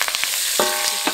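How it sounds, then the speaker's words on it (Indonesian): Aromatics sizzling in hot oil for gulai jantung, a continuous loud close frying crackle with brief stirring scrapes through it. "Kita tunggu sampai wangi."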